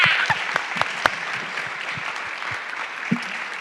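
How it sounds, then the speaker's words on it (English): An audience at a book talk gives sustained applause, a dense steady patter of many hands with a few sharper individual claps. "Another round of applause."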